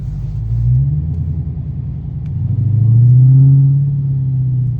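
Interior view from a Dodge Hellcat cruising on a rainy highway: deep engine rumble with a smooth rise in pitch as the car accelerates, then settling, with no talk.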